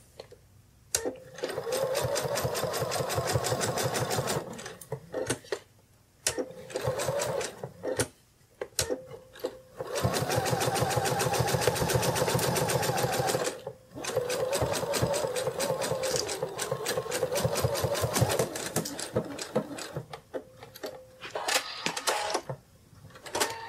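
A sewing machine stitching a sitting kitty plush runs in long steady bursts of rapid needle clatter, stopping and restarting several times with short pauses, close and loud, with no talking.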